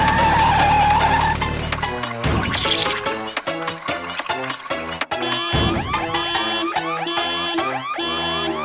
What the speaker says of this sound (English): Suddenly, the truck slightly loses control and crashes into a barrel.